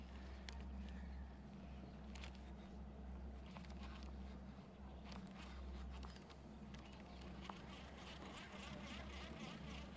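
A motorboat approaches across Lake Guntersville, a steady low engine drone heard from a fishing boat, continuous and fairly loud beneath faint water and deck noises.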